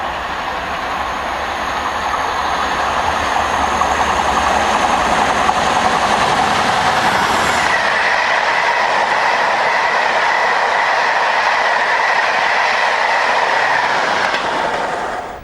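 Diesel locomotives 47804 and 500 thunder past close by with a tour train through Polesworth, heavy engine roar and rolling wagon rumble sustained, the pitch shifting midway as the locomotives go by.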